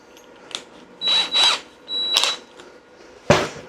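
A power drill bores a 6 mm hole for a rivet nut in bursts: a short whir, two longer drilling runs, another run, then a sharp knock at the end, close and clear with no voices.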